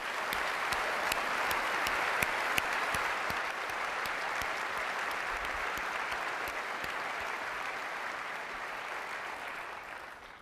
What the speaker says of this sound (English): I'd really like to give one more round of applause, thanking all of our developers for their amazing work